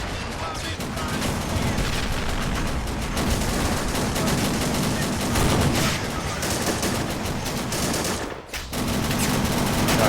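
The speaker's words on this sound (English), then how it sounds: "I can hear machine guns firing as well" Machine gun fire in the World War II game Men of War: Assault Squad 2, set during US Marine beach landings at Saipan in 1944: sustained rapid bursts of automatic gunfire, dense and loud throughout, with a brief lull near the end.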